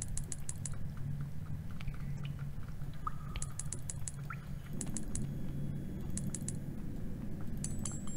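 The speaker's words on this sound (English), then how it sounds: "I'm chewing on some food here." Someone chewing food close to the mic, with soft rhythmic crunching and small clicks repeating steadily over a low background hum, with no talking.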